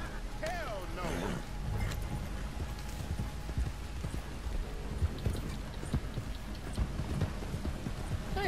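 Rhythmic hoof clip-clops from a horse in a video game, steady under background game noise and occasional voice.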